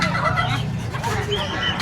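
Chickens, including Rhode Island Reds and Serama bantams, at a busy pet and livestock market, with clucking and crowing continuing steadily against dense background crowd noise.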